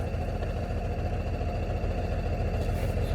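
Truck diesel engine idling steadily at a low rumble during an air brake test, a constant close drone with no breaks or voices.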